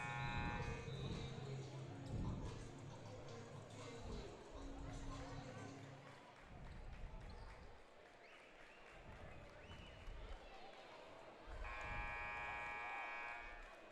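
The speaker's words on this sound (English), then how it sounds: "And the buzzer goes there" Buzzer sounding at a high school boys basketball playoff semifinal in a gym, a long harmonic blare near the start and again near the end, with crowd noise and talk around it.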